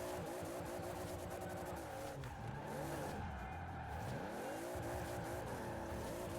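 A 1600 HP GT86 drifting in the Forza racing game, its engine droning loud and steady with shifting pitch and tire squeal running continuously underneath.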